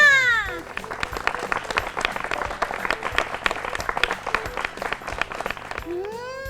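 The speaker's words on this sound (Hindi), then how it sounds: "तालियां।" Studio audience applause on a children's fun-learning show about positive thinking: steady, dense clapping for about six seconds, framed by short rising and falling cartoonish tones at the start and end.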